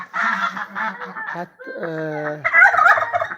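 Geese honk and turkeys gobble on a farm among other poultry, a loud close run of rapid gobbling, then honking and squawks over about three seconds, with a brief spoken word.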